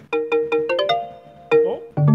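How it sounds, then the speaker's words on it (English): A phone ringtone in the Nokia style plays a bright, beeping electronic melody: a quick run of short tonal notes, a held note, then a few more notes after a brief gap, clear and close. "sounded like a Nokia ringtone"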